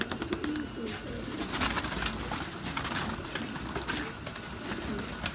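Gola pigeons coo softly in a loft, a low murmur of several birds layered over steady background hiss, with faint rustling and no speech.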